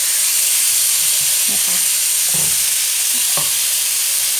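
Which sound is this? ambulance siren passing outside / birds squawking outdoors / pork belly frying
pork belly frying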